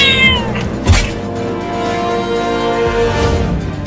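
Cartoon cat meowing in a Hindi comedy animation about an ice cream seller: loud, drawn-out, wavering meows that rise and fall in pitch, close up and clear, with no talking.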